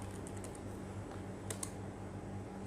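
Steady light clicks of a computer keyboard as a marker note is typed in Camtasia 2022 video editing software, soft and close over a low background hum, with a slightly louder pair of keystrokes midway.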